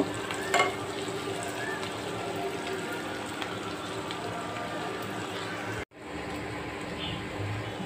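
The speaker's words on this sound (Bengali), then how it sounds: "পেঁয়াজটা একটু ভেজে নিচ্ছি।" Onion frying in a pan gives a steady, rain-like hiss throughout, with a brief clatter near the start and a sudden short dropout before the sizzle resumes.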